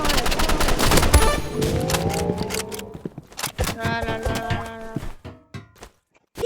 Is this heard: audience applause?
no